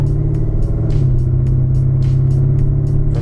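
A modified 2016 Chevy SS exhaust in its loud setting, heard from inside the car: a deep, steady rumbling drone with a strong low hum and a faint rhythmic ticking on top.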